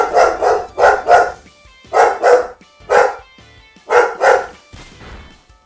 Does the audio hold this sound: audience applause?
no